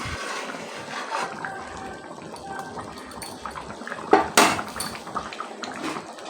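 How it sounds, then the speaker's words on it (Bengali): Cooking pot of kabuli chickpea curry being covered with its lid: a sharp metallic clank and short rattle, close and fairly loud, over a steady background of kitchen noise with no talking. "এবারে আমি এটাকে একটু ঢেকে দিই।"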